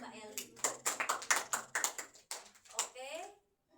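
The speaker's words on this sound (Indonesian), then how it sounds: "Beri tepuk tangan untuk Mbak Eli." A small group in a classroom claps in a short, uneven run of sharp hand claps close by, and a voice trails off at the end.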